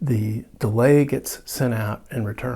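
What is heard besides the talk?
No everyday noises stand out.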